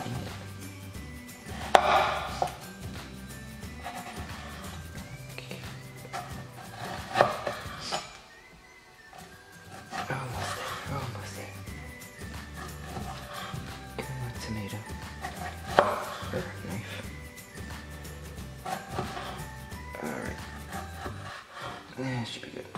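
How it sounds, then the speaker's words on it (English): A dull kitchen knife chops tomatoes on a cutting board in a small kitchen, with repeated scraping cuts in uneven bursts and a brief quiet pause, while a person talks over it. "So now we're just gonna start chopping down."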